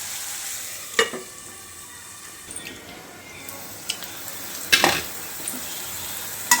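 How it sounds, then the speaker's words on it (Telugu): Onions and liver frying in a pan with spices, a soft sizzle broken by several sharp clinks and scrapes of a spoon stirring against the pan. "చూడండి, ఉల్లిపాయ అయితే అలా మగ్గింది కదా మాకు."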